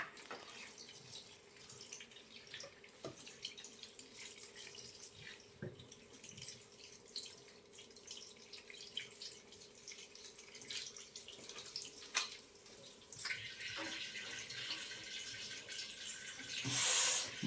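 Water runs from a tap during washing, a soft steady trickle with faint clinks and splashes that grows louder toward the end.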